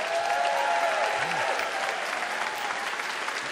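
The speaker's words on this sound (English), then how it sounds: "Let's see what the audience thinks by applause." An audience at a comedy debate show applauds a debater, a steady wash of clapping that holds fairly constant and fades only slightly toward the end, with no voices over it.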